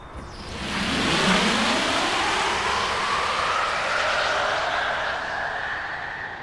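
A 2026 GMC Sierra EV Denali electric pickup on 24-inch all-season tires accelerates hard, a rising whine over loud tire and wind roar that builds and holds steady, with no talk.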